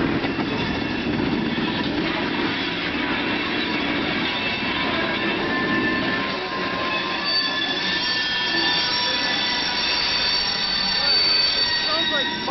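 CN local switcher railcars grind slowly along track near terminals in Hamilton, Ontario, with high, sustained wheel squeal ringing over a continuous rumble throughout.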